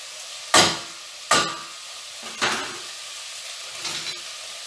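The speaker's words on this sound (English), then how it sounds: "I have 3 cloves of garlic, which I'm just going to mince directly into the pan" Minced garlic hitting a hot pan, each addition setting off a short burst of sizzling that quickly fades over a low steady hiss, repeated about four times.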